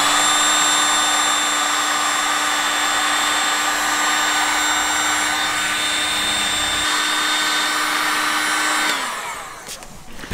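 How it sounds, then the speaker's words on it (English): Heat gun shrinking heat-shrink insulators on Jeep Wrangler JL wiring, a steady whining fan drone with a constant tonal hum, close and even, then spinning down near the end. "Then we're going to take a heat gun and shrink them."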